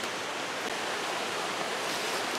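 A creek in the Smoky Mountains rushes steadily in the dark, a close, even wash of flowing water with no break, heard alone.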